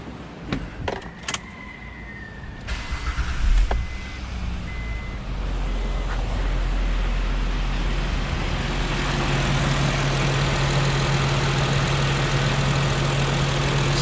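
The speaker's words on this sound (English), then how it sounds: "So let's fire it up and see how it sounds." An Acura MDX J-series V6, freshly back together after a valve adjustment for a misfire, gives a few clicks, then cranks, catches and settles into a steady, even idle.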